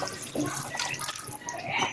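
Water pours into a pan of drumstick masala with the spice powders already added, a steady, moderately loud splashing rush lasting a couple of seconds with no talking over it.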